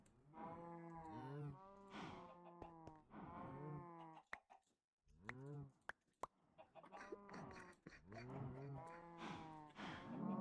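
Cows in a video game moo repeatedly in long, loud, drawn-out lowing calls, several overlapping across the stretch, mixed with occasional clucking fowl and a few sharp clicks.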